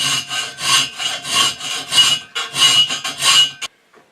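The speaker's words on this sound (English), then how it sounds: "now I'm just taking a half round file and I'll finish it out" A half round file rasps back and forth across a metal part for a Piper Supercub Widebody airframe rotator front stand, with about nine loud, close, rhythmic strokes followed by a brief clink and then silence.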